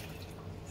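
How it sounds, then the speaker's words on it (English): One cup of reserved pineapple juice pours into a bowl of salad ingredients, giving a brief, soft, steady liquid trickle over faint low hum. "This is the pineapple juice. I'm gonna add 1 cup of that."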